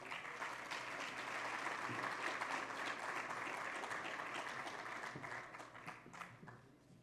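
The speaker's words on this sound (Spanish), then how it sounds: "Un aplauso para ellos." Sustained applause from a large conference audience at an international insurance convention closing, steady dense clapping that swells and then gradually tapers off over several seconds.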